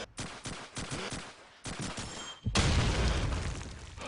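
Gunfire and grenade blasts in the video game Call of Duty 2 during a competitive match: rapid bursts of rifle and machine-gun fire, then a sustained loud rumbling explosion wash.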